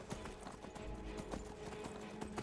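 Horse hooves clip-clop in a steady rhythmic gait while riding through the wilderness in the video game Skyrim, moderately close over a busy game soundscape.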